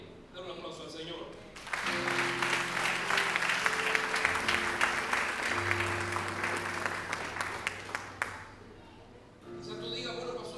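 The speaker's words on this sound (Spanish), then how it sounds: "Dale un aplauso al Señor." A church congregation breaks into sustained applause for several seconds, dense and fairly loud, with a sustained organ or keyboard chord held beneath it and voices heard at the start and end.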